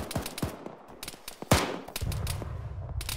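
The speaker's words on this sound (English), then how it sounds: "we're taking fire really far in East Northeast" Gunfire in a military shooter video game: scattered sharp shots, some distant and some nearer, crack out irregularly, followed by a stretch of steadier rumbling fire.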